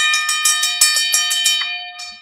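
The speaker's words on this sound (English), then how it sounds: "I'm going to get this gong." A metal gong or bell is struck in a rapid series of about ten bright, ringing hits, each overlapping the last before the tone fades out.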